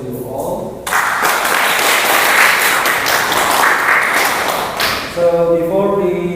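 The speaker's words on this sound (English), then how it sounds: "Give applause to you all." A classroom group claps for several seconds after a student presentation, a dense burst of applause that cuts in sharply and fades, with voices talking before and after.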